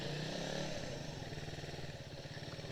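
Suzuki Raider 150 Fi manual motorcycle pulling away in first gear, a close, steady engine drone with a pulsing beat that rises slightly as it moves off.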